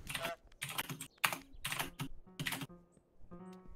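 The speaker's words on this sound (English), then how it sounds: "I can hear your keyboards." Computer keyboard typing during an Untitled Goose Game speedrun, bursts of quick clacky keystrokes in short clusters with brief pauses, fairly close and fairly quiet.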